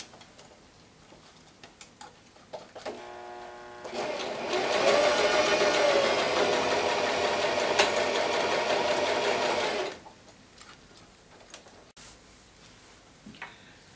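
A sewing machine stitches the elastic casing of a bellydance coin scarf, a fast steady whirring run of about six seconds between quieter ticks and handling noises before and after.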